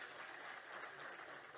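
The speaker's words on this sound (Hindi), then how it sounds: "एक बार जोरदार तालियां इस कार्यक्रम के लिए।" An audience applauds at a gathering of youth and women's groups in Uttarakhand, a steady wash of clapping that sounds faint and distant.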